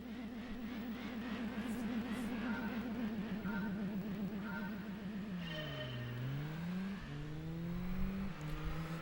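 A race car in a racing video game revs and shifts through gears, with a whining engine note that wavers, drops and climbs again. It runs steadily and alone, with no talk.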